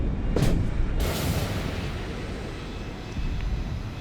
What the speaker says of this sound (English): The first missile hits. The second also connects, the third follows through